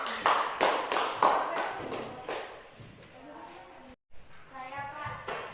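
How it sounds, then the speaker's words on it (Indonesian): Students clapping in a classroom for a classmate, a few loud claps at the start that fade into scattered, quieter taps, with a brief break in the sound. "Oke, kasih tepuk tangan untuk kawannya."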